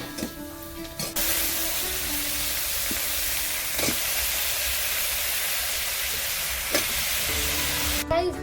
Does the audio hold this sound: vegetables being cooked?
yes